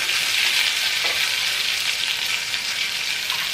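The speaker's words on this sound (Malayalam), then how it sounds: "നന്നായിട്ടൊന്ന് ഇളക്കാം" Garlic and chillies sizzling in a frying pan with cumin while being stirred, a continuous bright crackle with faint scraping of the spoon, close and steady.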